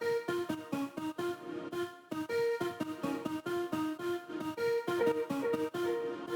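Main melody on Augmented Piano, a bright plucked, bell-like keyboard line of quick staccato notes with short gaps and a brief pause, quiet and alone without voices.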